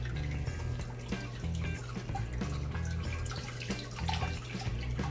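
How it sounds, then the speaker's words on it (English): Reverse osmosis water drips and trickles through grains being sparged for home-brewed saison beer, a quiet run of small splashes and patters with no talking. "now that we've finished sparging our grains with our reverse osmosis water"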